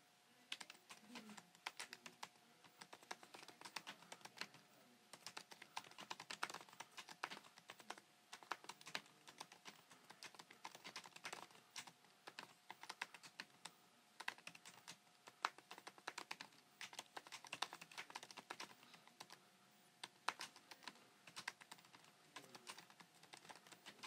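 Continuous fast typing on a 2018 13-inch MacBook Pro keyboard, with close, crisp, flat key clicks in a quiet room and no talk.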